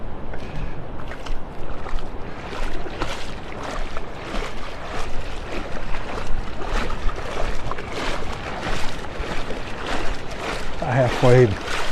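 Feet wade through shin-deep sea water along a soft-sand beach in North Naples, Florida, producing rhythmic close swishing and splashing steps, with someone talking over them.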